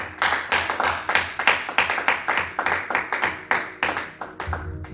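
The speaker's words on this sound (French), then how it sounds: "Acclamons la parole de Dieu avec force, tout le monde" A church congregation claps together in steady rhythmic beats, with loud, close, repeated claps that keep an even pulse from start to finish.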